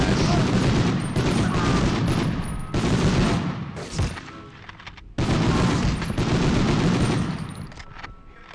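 Browning Automatic Rifle (BAR) fire in the World War II shooter Medal of Honor, during a mission to sabotage the Rjukan hydro plant: two long, loud sustained bursts of automatic gunfire separated by a brief lull, with a few sharp booms between them.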